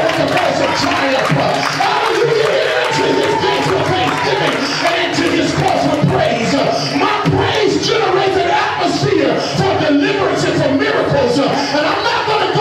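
Church congregation at a worship service shouting and clapping together, a loud, dense, continuous roar of voices and hand claps filling the room throughout.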